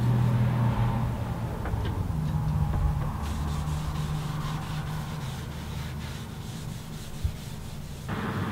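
Wipe-on poly finish being rubbed onto an oak slab table top with a cloth, a steady soft scrubbing hiss with a low hum in the background.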